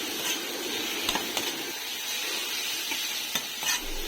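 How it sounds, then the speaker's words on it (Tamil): Chopped tomatoes sauté in a pan for a Tamil mushroom gravy, giving a steady sizzle broken by a few sharp scrapes and clinks of a spoon stirring. "எல்லாத்தையும் சேர்த்து நல்லா வதக்கிக்கலாம்."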